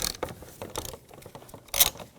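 Ratchet wrench with a 13mm socket on a long extension loosening the battery hold-down bolt of a 2011-2018 Volkswagen Jetta, giving close, repeated clicking pawl strokes in an irregular rhythm.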